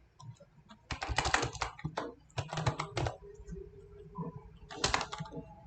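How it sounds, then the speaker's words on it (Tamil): Fingers type on a computer keyboard in close, crisp bursts of rapid clicking, separated by short pauses in a quiet room with no talk. "ஸோ இந்த மாதிரி நீங்கள் டைப் பண்ணிக்கலாம்."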